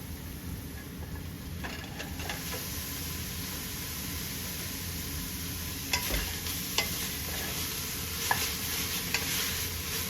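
A spoon stirring browned meat into homemade spaghetti sauce in a pot, steady close sizzle and simmer with scattered clinks and scrapes of the utensil, no speech.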